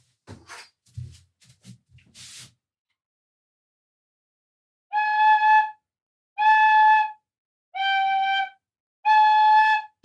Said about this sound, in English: At the moment, I just have Mr. Giraffe and a little tin flute